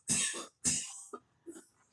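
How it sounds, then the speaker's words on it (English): A patient coughing during an airway clearance session: two loud, forceful coughs in quick succession, followed by softer throat-clearing sounds, close to the microphone. "turn your head, and cough."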